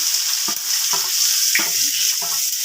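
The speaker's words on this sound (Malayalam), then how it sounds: "നമ്മൾ അരിഞ്ഞ് ചെറുതായിട്ട് അരിഞ്ഞ് വെച്ചിരിക്കുന്ന നമ്മുടെ ചെറിയ ഉള്ളിയാണ് അത് ഇട്ട് കൊടുക്കാം" Finely chopped small onions sizzle in hot oil with mustard seeds and curry leaves for a Kerala prawn theeyal, a steady loud fry broken by a few stirring scrapes of a spoon in the pan.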